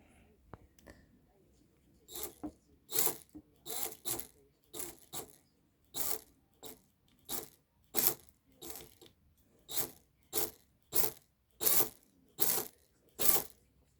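A cordless drill with a broken rotor part gives an irregular series of sharp, crackly rattling bursts, loud and close, repeating roughly every half second with brief gaps between them.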